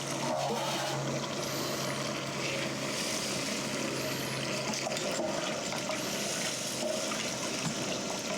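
Pump running while grains are mashed for rye whiskey, a steady close whir with watery rushing that stays constant throughout with no speech.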